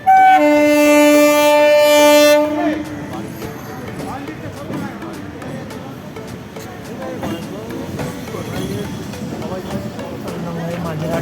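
A train horn blares in long steady tones at the start, then a rumbling train rolls past at Bagbazar, Kolkata, with clattering wheels and mixed background noise.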